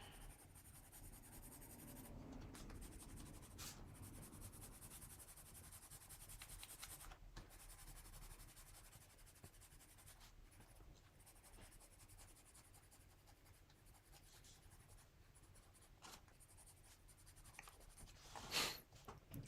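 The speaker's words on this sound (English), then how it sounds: "instead of doing it with a darker pencil, I'm doing it with a lighter pencil" A light colored pencil shades across paper for a winter cabin stamp scene, faint, steady scratchy rubbing strokes that continue close and quiet throughout, with a brief sharper scrape near the end.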